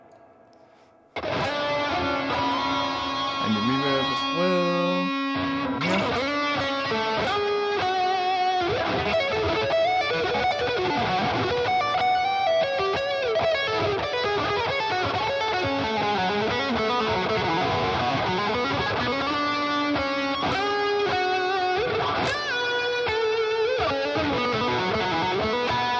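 An electric guitar plays a distorted lead through the Aurora DSP Rhino amp plugin with delay and reverb, a loud, sustained melodic line full of bends and trailing echoes that continues without pause.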